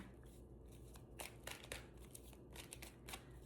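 Tarot cards riffle and snap in several quick bursts against a low steady hum, close and fairly quiet, with no talking.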